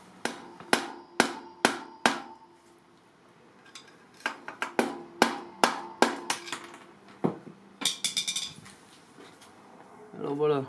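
Hammer tapping a needle bearing out of a pulley on a Peugeot 103 SPX/RCX moped, a series of sharp metallic knocks in an even rhythm, then a quicker cluster of lighter taps, close and distinct.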